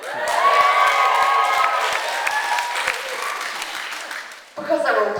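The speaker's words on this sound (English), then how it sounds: "Can you get a cheer for that?" A stand-up comedy crowd cheers and applauds loudly on request, a full burst of clapping and whoops that gradually thins out before a voice cuts in at the end.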